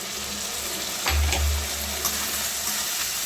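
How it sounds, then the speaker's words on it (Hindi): Cumin and ginger-garlic paste sizzling in hot oil in a pan with potato, tomato, green chili and bay leaf for a cabbage dish: a steady, close sizzle with a low hum and a brief louder surge midway, no talking. "इसको अच्छे से फ्राई करेंगे।"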